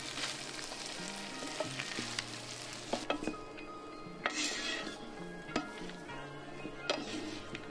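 Spaghetti being tossed and stirred in garlicky oil in a single pan, with a steady sizzle and frying crackle under occasional clinks of utensils against the pan, close and moderately loud, without any talking.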